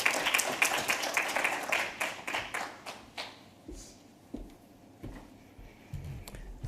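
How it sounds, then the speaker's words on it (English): At the Kenya Investment Summit, the audience gives a short round of applause: crisp claps for about three seconds that thin out and fade, leaving a quiet room with a few scattered taps. "A round of applause."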